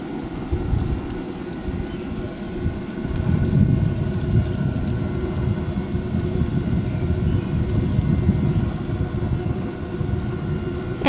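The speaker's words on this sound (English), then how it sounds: "the water heater heating up." A propane water heater fires up inside a Keystone Passport 153ML travel trailer, giving a steady low rumbling roar that swells slightly after a few seconds and continues unbroken, with no talk.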